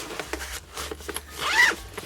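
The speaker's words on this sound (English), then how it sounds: "it's got an out pocket here and it's got a zip pocket here" The zipper on the zip pocket of an Amazon pen case organiser is pulled in a quick series of short rasps, ending in one longer zip, close and clear with no talking.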